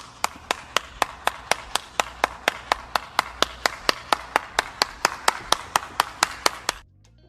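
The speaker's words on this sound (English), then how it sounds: "let's go and give Queen Sheba a round of applause" A single person claps steadily, about three claps per second for roughly seven seconds at close range, then stops. The claps are sharp and even and no one speaks.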